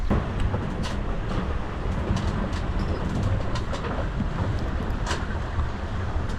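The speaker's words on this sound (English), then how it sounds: "it's quite a bit windier out here now. We've got 20 knots consistent." Strong wind of about 20 knots buffets a small sailboat in the English Channel, a loud, continuous rushing roar with gusty rumble and no talking.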